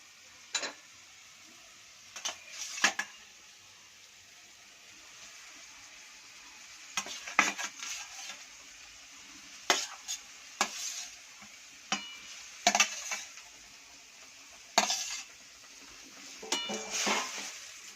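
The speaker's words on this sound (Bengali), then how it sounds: "ভালো করে একটু নেড়ে নেবো।" A spoon scrapes and clinks against a pot of simmering egg and potato curry, scattered sharp metallic knocks spread across a quiet bubbling background, close and intermittent, no voices.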